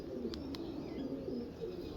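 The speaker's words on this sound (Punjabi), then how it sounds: "ਇਹ ਮੇਰੇ ਐਂਟੀਕ ਕਬੂਤਰ ਜਨਾਬ" Pigeons of an antique-type breed cooing softly and repeatedly at close range, low murmuring coos over a steady hum, with a couple of brief higher chirps.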